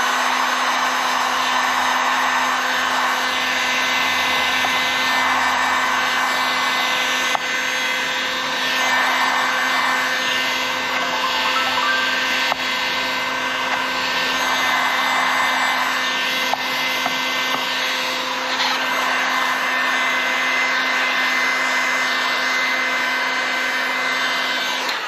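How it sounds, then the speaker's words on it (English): A heat gun warms stickers loose from a 2023 KTM 690 SM motorcycle, giving a loud, steady, close blowing whir that holds unbroken for the whole stretch with no voices. "If you ever are in doubt when you want to take a sticker off, do not use a razor blade. Use a heat gun."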